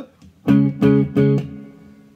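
Three short guitar chords through a Laney TT50 amplifier's reverb strike in a quick sequence, each trailing off into a washy reverberant tail at moderate volume.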